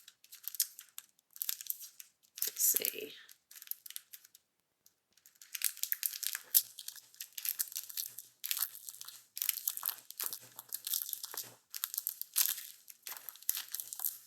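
Whispers of Fall Roycycled decoupage paper is handled close up, with dry crinkling and rustling in repeated bursts and a brief spoken remark.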